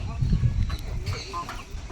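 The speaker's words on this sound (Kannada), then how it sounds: "ನಮ್ಮೂರು ಕೋಳಿನೂ ಐತೆ ನಿಮ್ಮೂರು ಕೋಳಿನೂ ಐತೆ" Chickens of several varieties cluck and call amid a noisy poultry farm, with a person talking nearby over the birds.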